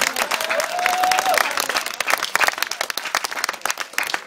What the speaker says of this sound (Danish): Skal vi ikke give ham et klap?